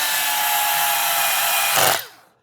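A power drill set to very low torque drives screws into the plastic shafts of a Hayward TracVac pool vacuum, a loud steady whir that surges briefly near the end, then winds down as the trigger releases.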